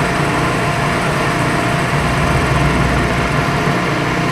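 A loud, continuous grinding whine of a milling machine cutting steel, steady and close, with a constant motor drone underneath.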